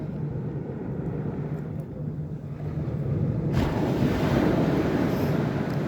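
Waves washing onto a beach with gusting wind, a broad steady roar that swells louder halfway through, buffeting the microphone, with no voices.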